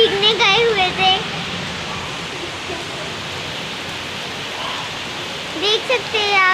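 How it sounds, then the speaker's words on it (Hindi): Steady outdoor rainfall hisses evenly throughout, a dense broadband wash, with someone talking excitedly over it at the start and again near the end. "तो आज हो रखी थी बारिश और हम भीगने गए हुए थे"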